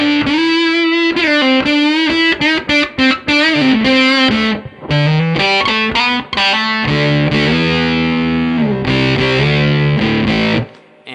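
Electric guitar played through a JMI Tone Bender Mark II Professional fuzz pedal: thick, saturated fuzzed lines and sustained bent notes with crisp edges, loud and close, alone without talk.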